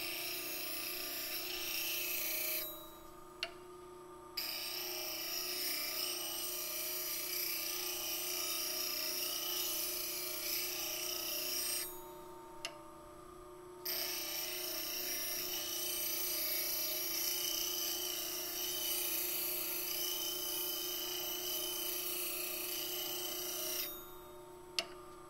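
Steady scraping of a wooden platter rim turning on a wood lathe, a continuous close, loud rasping whir with three brief pauses where the tool lifts off the wood.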